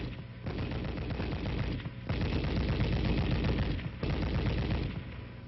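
An M73 7.62mm coaxial tank machine gun fires in long, sustained automatic bursts, loud and close, with two brief pauses between the strings of rapid shots.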